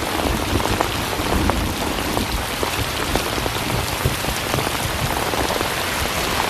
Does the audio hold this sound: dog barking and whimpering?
no